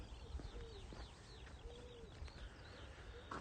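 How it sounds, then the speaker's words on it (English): Birds call outdoors on a sunrise countryside walk in the UK, with soft dove-like coos and scattered chirps faint at a distance over steady open-air background noise. "My bird noises, or the ones that I just broadcast to you from nature."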